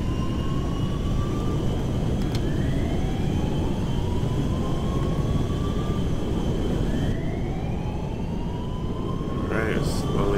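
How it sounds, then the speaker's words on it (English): A plane in the video game GTA 5 roars steadily on takeoff, its engine pitch rising and sliding repeatedly, with a loud, continuous broadband rush throughout. "we got them in the plane at one way or the other, so now we will be taking off to go to our next location."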